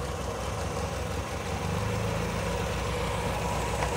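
A 1966 Triumph Spitfire engine idles with an even low chug as one carburettor's throttle is eased open, the running note growing slightly fuller halfway through; no talking.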